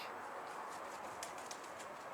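A flock of pigeons takes off from a rooftop, a faint flurry of wing flaps and a few sharp flutters over steady outdoor background noise.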